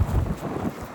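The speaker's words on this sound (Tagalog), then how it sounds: "lakas ng hangin, lamig." Strong cold wind buffets the microphone outdoors during chainsaw work clearing uprooted tree roots, a steady low rumble that gusts louder at the start and stays constant throughout, with no talk.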